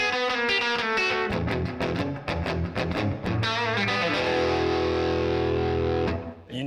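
Distorted electric guitar on the bridge lead pickup with a bright, biting tone: quick choppy strums in a driving rhythm, then a loud chord left ringing before it cuts off.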